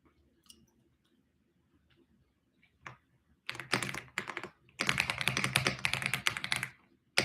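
Computer keyboard typing comes in bursts of rapid, close clicks after a few sparse taps, growing busier and louder toward the end.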